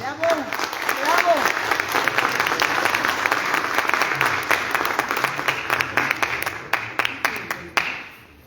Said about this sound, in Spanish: Recibimos con fuertes aplausos al doctor Héctor Gómez Rodríguez.